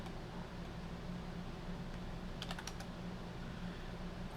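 Keys tapped on a computer keyboard to enter a Windows mklink command, a short quick cluster of clicks near the middle over a steady hum of room and fan noise, with no one talking.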